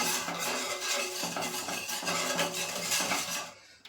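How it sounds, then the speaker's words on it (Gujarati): A wire whisk beats homemade ice cream premix in a bowl to break up lumps, producing rapid, rhythmic scraping and clinking strokes at close range, steady throughout and stopping abruptly at the end, with no talking. "આવી વિસ્કરની મદદથી તેને સેટ કરી લેશું, જેથી તેમાં કોઈ લમ્સ ન રહી જાય"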